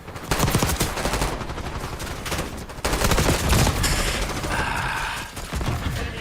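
Sustained video-game gunfire in a first-person shooter firefight, dense rapid bursts and overlapping shots crackling almost continuously, loud and close with brief dips between volleys.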